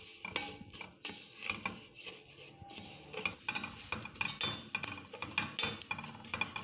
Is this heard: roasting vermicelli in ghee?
yes